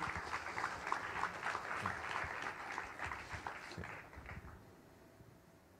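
An audience at the PlayStation Theater in Times Square applauds a guest, a crowd of steady, crackling claps that holds strongly for several seconds and then tapers away to near quiet.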